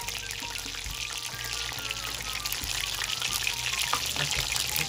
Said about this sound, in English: we're going to go back on our chicken frying